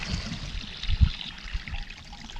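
Water trickles steadily into a small pocket pond within a terrace and swale system, a soft continuous babble with a few low splashy pulses, close and fairly quiet, with no talking.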